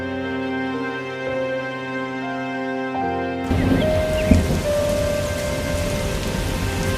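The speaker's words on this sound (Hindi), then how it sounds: "अरे ये क्या, हवाएं भी चलने लगी और बारिश भी शुरू हो गई।" Rain begins with a sudden wash of heavy downpour and gusting wind at the start of a thunderstorm, replacing a calm tonal background halfway through, with a louder rumble-like thump soon after.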